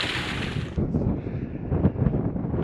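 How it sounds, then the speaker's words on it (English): Strong gusting wind buffets the microphone high on a mountain near a lake, a loud continuous roar that swells and dips for a few seconds with no voice over it. "Bit windy, guys, as you'd expect."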